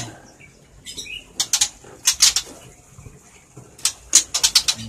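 A white-rumped shama (murai) in a breeding cage beats its wings in short, quick bursts of flapping, several flurries separated by brief pauses, fairly close and with no talk.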